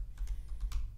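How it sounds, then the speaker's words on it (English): Quiet keystrokes on a computer keyboard, a short run of soft, quick taps over a low steady room hum. "we're going to go ahead and type in Google AdWords."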